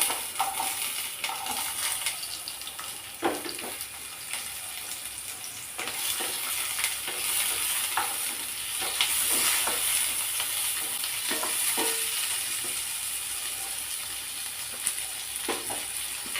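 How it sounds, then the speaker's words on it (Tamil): Onions, tomatoes and green chillies sautéing in oil in a kadai, a steady close sizzle with scattered clinks and scrapes of a spoon stirring throughout. "2 பச்சை மிளகாய் நம்ம இந்த கடாயில் போட்டு வதக்கலாம்."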